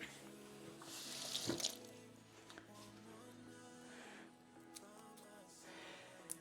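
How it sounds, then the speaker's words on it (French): Tap water running over dropped garlic in a sink, a soft continuous rush with a brief louder splash near the start, fairly faint and close. "On va aller rincer ça."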